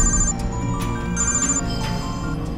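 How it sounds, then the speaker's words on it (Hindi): A mobile phone rings with an incoming call in a Hindi-dubbed South Indian action romance film, its steady electronic ringtone repeating over a dense, continuous background score. "उसके फोन पर डीएसपी का फोन आ रहा है"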